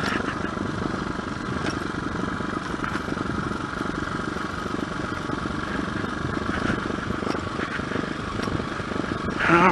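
A 2021 TBR7 dirt motorcycle rides over rocks and dry ruts in a state forest, its engine droning steadily up close while loose parts rattle and clatter throughout.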